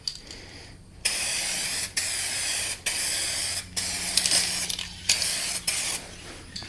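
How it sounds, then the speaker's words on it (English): An aerosol can sprays a coat onto a car headlight in repeated hissing bursts of about a second each, separated by brief pauses, loud and close. "Let's make sure we got decent spray here."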